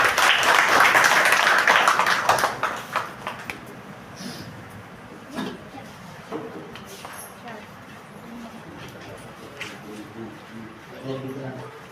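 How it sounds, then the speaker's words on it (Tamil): An audience at a temple discourse claps for a YouTuber, a loud burst of applause that fades over a few seconds into scattered claps and murmuring, with speech continuing afterward. "அவருக்கும் ஒரு கொஞ்சம் கைத்தட்டல் கொடுத்தீங்கன்னா நல்லா இருக்கும்"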